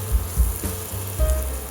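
MTR chili powder for butter chicken sizzles in hot fat in a pan, a close, steady frying hiss with soft thumps of stirring, and no voices.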